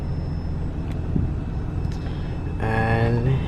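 Toyota Tacoma pickup fitted with 4.88 gears, its engine just started, idling low and steady before a louder rise near the end with a harmonic whine, heard from inside the truck.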